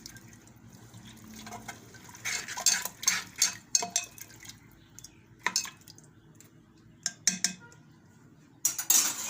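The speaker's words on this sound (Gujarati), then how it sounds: "થોડુંક આપણે આમાં ઘી નાખીશું, 1 ચમચી જેટલું। હવે બધું આપણે મિક્સ કરી દેવું।" A spoon mixes a spoonful of ghee into bajra khichdi in a pressure cooker, with bursts of metal scraping and clinking against the pot and soft wet squishes between quieter pauses.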